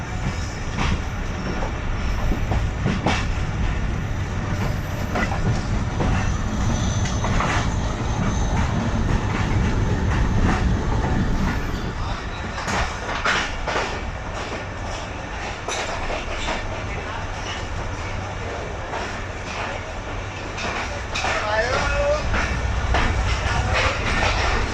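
Shalimar Express train pulling into Multan Cantt railway station at platform 3, with a steady rumble, clattering wheels and scattered squeals and clanks, the rolling noise easing off partway as it slows.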